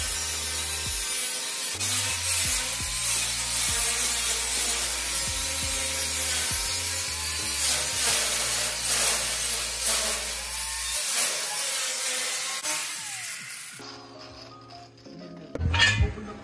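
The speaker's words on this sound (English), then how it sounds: "So we're gonna be cutting out the actual brace for the upper portion of the intercooler" A long stretch of harsh, continuous cutting noise as a metal intercooler brace is cut out, loud and close with grinding, rasping texture, fading near the end before a final short burst.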